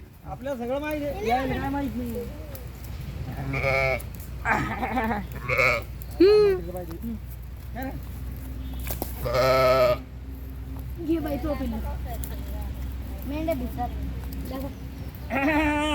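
Sheep bleat repeatedly, some near and some farther off, in short wavering calls scattered through a steady low hum while people talk and call out among the flock.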